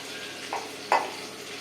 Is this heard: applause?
no